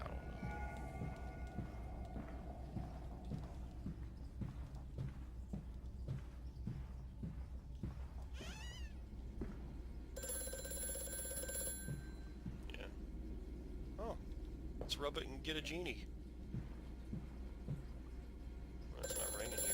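In the Amnesia: A Machine for Pigs game, an old telephone rings in short bursts of bright, metallic bell tones against a low, droning ambience, and someone talks quietly now and then.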